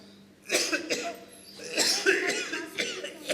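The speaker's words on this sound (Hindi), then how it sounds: "मामूली खांसी है।" A few sharp coughs in quick succession, close by, with a short pause and then more harsh coughing; no talking.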